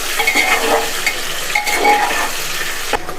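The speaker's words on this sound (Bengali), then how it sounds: "দেখো আমি কেমন করে ভাজি পেঁয়াজগুলো" Onions fry in a pan with a steady bright sizzle while a utensil stirs and scrapes against the metal in repeated strokes, close and fairly loud.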